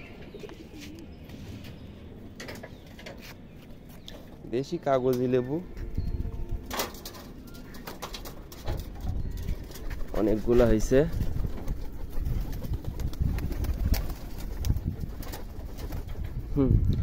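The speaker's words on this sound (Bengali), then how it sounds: "আমার কবুতর আমার পাশে পাশে আসছে মনে করছে ওদের খাবার দিচ্ছি" Pet pigeons coo on a rooftop garden among potted trees, soft repeated calls rising in a couple of short bursts while a person talks nearby over faint outdoor background.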